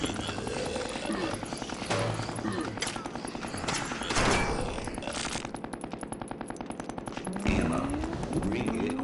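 Rapid bursts of automatic assault rifle fire from a video game, loud and continuous with repeated volleys and impacts over a steady background, with a voice speaking over the gunfire.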